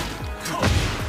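A Tekken 8 heat smash lands with a heavy crashing impact in a fighting game, one loud burst with a whooshing swell and low thud at its center, framed by lighter hits.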